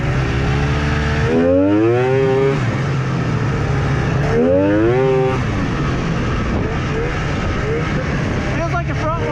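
An old snowmobile engine idles with a steady drone, then revs up twice in rising whines before settling back, loud and close.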